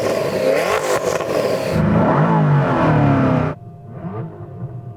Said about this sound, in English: It's just pure internal combustion engine. It sounds powerful.